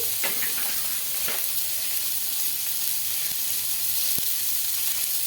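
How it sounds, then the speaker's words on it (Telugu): Fresh coconut pieces and cumin fry in a pan with a steady, close sizzle, and a few brief clinks of stirring come through. "పచ్చి కొబ్బరి ముక్కలు అయితే వేసుకుంటున్నామండి ఇలా కొద్దిగా వేగిన తర్వాత అందులోకి కొద్దిగా జీలకర్ర అయితే వేసుకోవాలండి"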